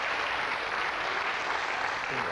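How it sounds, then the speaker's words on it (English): Steady crowd applause, a dense wash of clapping that holds at an even level throughout. "Give them a big round of applause, everybody."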